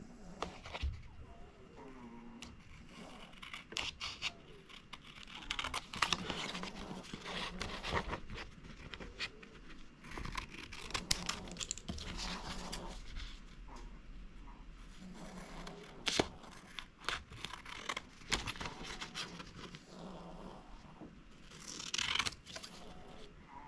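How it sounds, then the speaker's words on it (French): Paper pieces being cut out with scissors from a craft booklet, giving soft intermittent snips, rustles and scraping handling noises at close range throughout, with no talking. "Je vais venir les découper."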